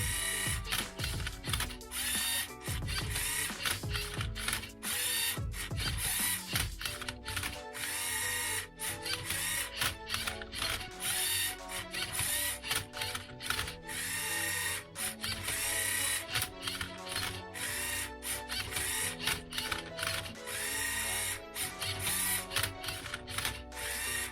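A Lego robot turns a Rubik's Cube with rapid, repeated ratcheting clicks and whirring gear noise, in a near-continuous mechanical chatter of quick bursts throughout.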